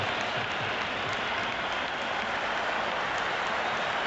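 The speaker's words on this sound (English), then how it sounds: "The spectators are absolutely buzzing right now." A cricket stadium crowd in the game Cricket 26 keeps up a constant hiss of cheering and clapping, broad and unbroken like heavy rain, holding the same level throughout.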